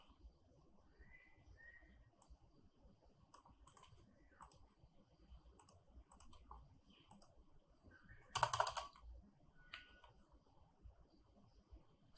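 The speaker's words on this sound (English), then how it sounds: "let's type in content type" Quiet, scattered typing on a computer keyboard, with irregular bursts of soft key clicks and one sharper, louder clatter near the end, heard alone against a faint background.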